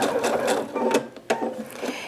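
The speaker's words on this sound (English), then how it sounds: "I'm going to stitch it again because this is a stress area" A sewing machine runs in quick stitching bursts along a fabric seam for a turban headband, close and steady with a brief pause partway through.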